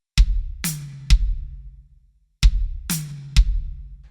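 Drum kit triplet fill: a bass drum kick, then the high tom and hi-hat struck together, then another kick, played twice with a pause between. The hits are close, loud and punchy, with the tom ringing out after each stroke.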